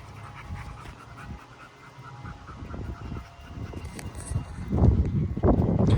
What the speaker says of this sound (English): Look at the doggies.